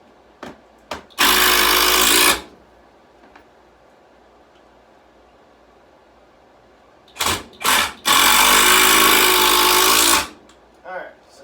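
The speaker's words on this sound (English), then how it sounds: "That's one reason I like the impact driver better than the screwdriver one, because this one will just keep powering through." A cordless impact driver drives screws into wood while a rodent rack is built, with two loud, close bursts of rapid hammering: one about a second long, then a longer one after a few short taps and a pause.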